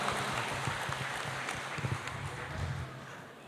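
Audience clapping at a church Christmas celebration, a fairly faint, steady patter of hands with a few scattered taps, fading slightly toward the end.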